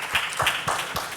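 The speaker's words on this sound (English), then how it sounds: "Please give her a big round of applause." Audience at a career counseling session claps in a brief round of applause, a short run of fairly close, moderately loud hand claps in an uneven rhythm.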